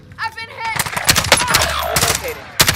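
Gunfire in a shooter video game striking the player, a dense run of rapid sharp shots and impacts over about three seconds, with excited voices talking over it.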